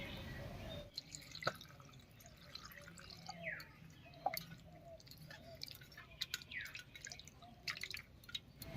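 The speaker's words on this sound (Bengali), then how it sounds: "এবারে ঠান্ডা জল দিয়ে ফুলকপিটা ভালো করে ধুয়ে নেব।" Cauliflower being rinsed in cold water for gobi paratha, heard as faint drips, splashes and wet squishing, irregular and close up, with occasional sharper clicks.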